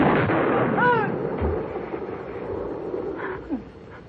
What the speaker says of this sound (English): I told you I'd shoot.